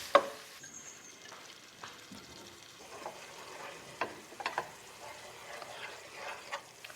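Turmeric, garlic and ginger sizzle in a pan while being stirred for a fish dish, a steady moderate frying hiss broken by a few scraping knocks of the utensil.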